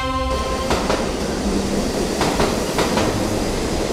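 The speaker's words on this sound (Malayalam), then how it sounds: "ട്രെയിൻ വന്നു." A train pulls into a station with a steady rumbling roar and a few rhythmic clacks of the carriages, fairly loud and with no voices.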